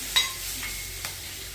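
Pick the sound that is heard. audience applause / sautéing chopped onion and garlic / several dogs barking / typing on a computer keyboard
sautéing chopped onion and garlic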